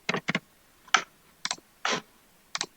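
Short bursts of computer keyboard typing, a few quick clustered keystrokes separated by brief pauses, close and clear in a quiet room.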